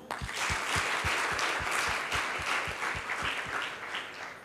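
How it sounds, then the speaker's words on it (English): Audience of young women clapping at a panel discussion on women leaders, a full steady wash of applause with a sharp, evenly spaced beat of rhythmic claps running through it. "Let's give you a big clap."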